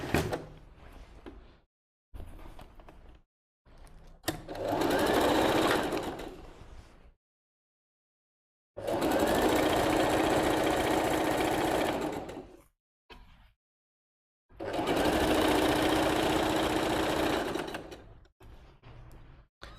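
Sewing machine stitching a tunic sleeve in three sustained runs of a few seconds each, separated by silent pauses and brief handling clicks, loud and close with no talking.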